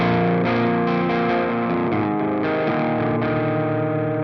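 Electric guitar played through the Clairvoyant Amp Suite plugin with reduced gain, sustained distorted chords ringing continuously, close and loud with no talking.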